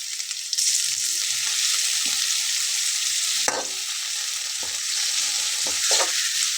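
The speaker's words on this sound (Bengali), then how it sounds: "একটু নেড়ে দেবো। টমেটোটা দিয়ে নেব।" Tomatoes fry in a hot pan with a loud, even sizzle, broken by a few scrapes of a spatula as they are stirred.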